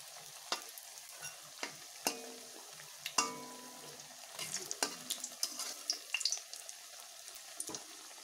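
Onions frying in oil in a Bengali home kitchen, a quiet steady sizzle broken by scattered clicks and taps of stirring and utensils.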